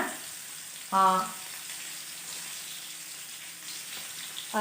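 Paneer frying in hot oil, a steady hiss of sizzling with light spattering crackles. A brief voice-like tone near the start and another at the end break in briefly over it.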